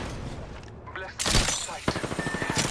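Rapid gunfire in the battle royale game Apex Legends, a loud burst after a quieter opening, then a string of quick repeated shots fired at the player, with a voice speaking over part of it.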